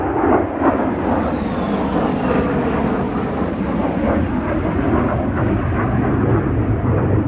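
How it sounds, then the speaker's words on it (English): A low-flying Air Force jet passes overhead above a fall garden, a loud sustained roar that holds steady and swells slightly as it goes by, with no speech. "we usually just get the big bomber planes, not the Air Force jets"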